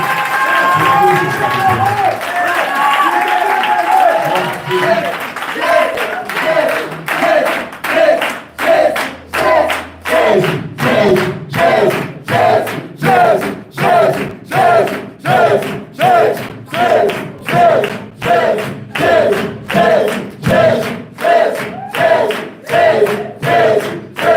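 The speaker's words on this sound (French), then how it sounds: "On acclame puissamment le Seigneur Jésus." A church congregation in Bafoussam cheers and acclaims Jesus, with a swell of crowd voices first, then loud rhythmic clapping in a steady, regular beat along with shouts.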